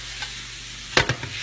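Spinach wilting in a hot pan, a steady soft sizzle with a couple of sharp stirring scrapes near the end, close and unaccompanied by talk.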